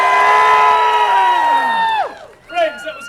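An audience at a live comedy stage show breaks into a sustained, loud, high-pitched group cheer that drops away sharply, followed by a few scattered shouts.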